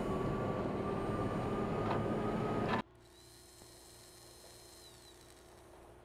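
A train in a video game rumbles loudly with a steady mechanical roar and a sustained whine for about three seconds, then cuts off abruptly to a much quieter background hum.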